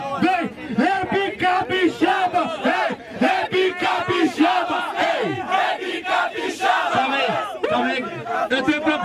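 A loud crowd of voices chants and shouts in unison at a Brazilian rap battle final, the rhythmic bursts repeating continuously and filling the whole space.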